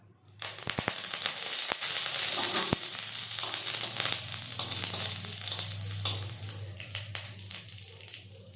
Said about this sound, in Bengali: এবার এই ঘিটা গরম হলে আমি এর মধ্যে দিয়ে দেব কয়েকটি কারি পাতা